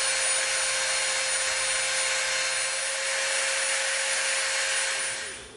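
A rotary tool with a smooth sanding bit whines at a steady high pitch while rounding off the corners of an EVA foam lightsaber part, running loud and close before spinning down at the end.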